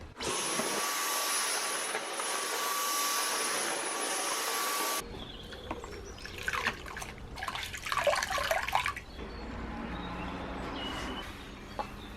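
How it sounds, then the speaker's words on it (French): A vacuum cleaner roars loudly and steadily on a balcony, then switches off, leaving softer scraping and rustling noises outdoors. "passer l'aspirateur sur le balcon plutôt que le balai."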